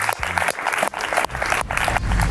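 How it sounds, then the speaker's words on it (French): A studio audience at a French television quiz show claps together in steady, dense applause, loud and continuous for a couple of seconds. "on vous applaudit"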